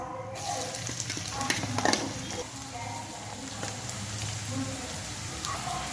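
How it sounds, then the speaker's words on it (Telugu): Onions crackling and sizzling in a pan, a steady close frying hiss with light spatula taps and scrapes scattered through. "ఆనియన్స్ తీసుకుని బాగా ఫ్రై చేసుకొని"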